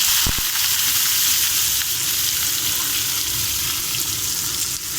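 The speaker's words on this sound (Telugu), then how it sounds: "లైట్ గోల్డ్ కలర్ వచ్చేవరకు ఫ్రై చేసుకుందాము" Onions and green chillies fry in a pan of oil with curry leaves for an aloo curry, giving a steady, loud, close sizzle that runs unbroken throughout with no talking.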